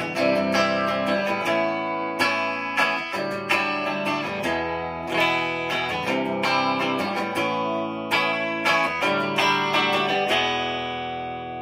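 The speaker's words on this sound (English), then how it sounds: "So right now, we have the neck humbucker, and we have the bridge humbucker in parallel. It sounds like this." Electric guitar with neck and bridge humbuckers wired in parallel, playing a strummed and picked chord passage with a clear, fairly bright tone, steady attacks every second or so, a light effects shimmer, no voices.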